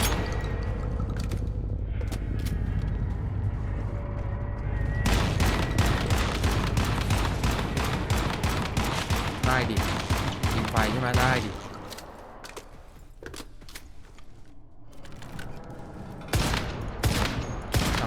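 Sniper rifle and other gunfire in the survival shooter Once Human, loud bursts of shots and a dense volley through the middle, with a speaking voice over much of the action.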